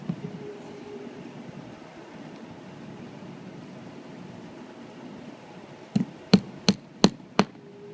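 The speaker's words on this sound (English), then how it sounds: "These guys just happen to have some hammer and nails handy." Five sharp, evenly spaced hammer blows drive nails into a pipe support near the end, ringing out loud and close after a long stretch of steady low background hum.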